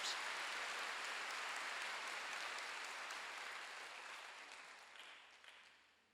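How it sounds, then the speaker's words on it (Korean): Steady, dense clapping from a church congregation during a Sunday worship service fills the space, holding loud and even before tapering off toward the end, with no voices over it. "박수 좀 세게 쳐봐요"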